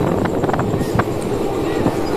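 A train runs close by near a railway gate, giving a steady, loud rolling rattle with sharp wheel clacks and clatter over a couple of seconds.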